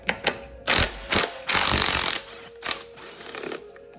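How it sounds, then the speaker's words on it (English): A ratchet wrench clicks in short bursts and longer runs of rapid ratcheting, close and clear, while the air cleaner comes off a California Trimmer 20-inch reel mower engine. "Let's start off by taking off the air cleaner."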